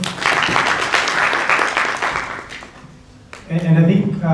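Workshop audience applauding a professor, a burst of clapping that fades out, followed by a person starting to speak.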